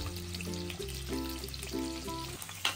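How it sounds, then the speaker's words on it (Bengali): Duck eggs, coated and slipped into hot oil in a pan, fry with a steady sizzle beneath louder background music with sustained chords. "তেল কিছুটা গরম হলেই মাখানো ডিমগুলো ভাজার জন্য আমরা পাত্রে ছেড়ে দিচ্ছি।"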